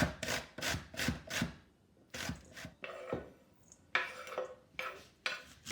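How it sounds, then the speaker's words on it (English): Celeriac rubbed down a big coarse kitchen grater in quick rasping strokes, bursts of scraping separated by brief pauses, close and clear with no talking. "With the celeriac, I'm just going to get a big coarse grater."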